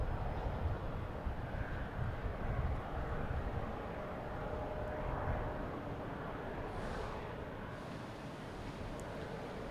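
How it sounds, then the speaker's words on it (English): An arriving Etihad Boeing 787-9 gives a broad, distant rumble that swells early and then eases off slowly, mixed with wind-like noise and no talk. "there's Etihad coming in from Abu Dhabi."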